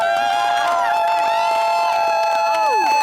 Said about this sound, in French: Applaudissons s'il vous plaît pour la finale.